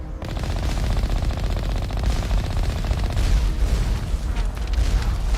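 Sustained, loud explosive gunfire and blasts from the video game Mass Effect: Legendary Edition, a dense rattling barrage of booms and bursts running the whole time with no pauses or voices.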